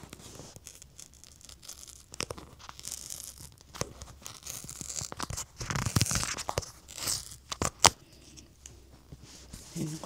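A birthday present package is torn open up close. Irregular crinkles, rips and sharp crunchy bursts come in clusters that grow louder midway, with no talking.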